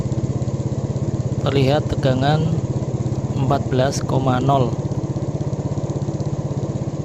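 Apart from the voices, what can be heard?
motorcycle engine idling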